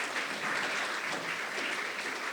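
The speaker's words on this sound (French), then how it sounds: "On peut applaudir un petit peu." An audience at an eloquence tournament evening claps steadily in a dense, even burst of applause with no voices over it.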